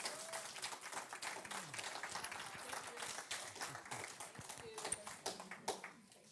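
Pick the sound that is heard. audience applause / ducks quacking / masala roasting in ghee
audience applause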